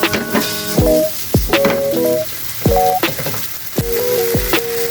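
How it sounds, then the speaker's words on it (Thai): Mee sua noodles with bacon and red chili being stir-fried in a pan, a steady sizzle broken by repeated clanks and scrapes of a spatula against the metal, close and fairly loud. "จากนั้นเราก็นำหมี่ส้วนลงมาผัดตามได้เลยนะครับ"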